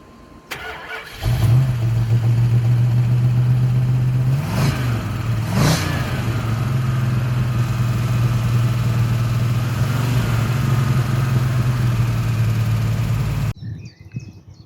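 A 1973 Dodge Charger SE with a 440 V8 and automatic gearbox starts up loud and close, gives two quick throttle blips, then settles into a steady, deep idle before cutting off abruptly near the end.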